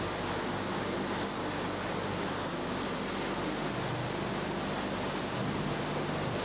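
High-pressure air rushing through the pipes of a flour mill, driven by an internal fan, a loud, steady broadband roar that stays constant throughout with no pauses.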